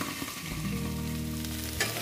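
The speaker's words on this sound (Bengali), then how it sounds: "আমার পেঁয়াজ কলিগুলো প্রায় ভাজা হয়ে গেছে" Onion stalks fry in a partly covered pan for a spicy katla fish curry, giving a steady, close, continuous sizzle and crackle that stays even throughout, with no talking.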